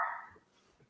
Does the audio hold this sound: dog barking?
yes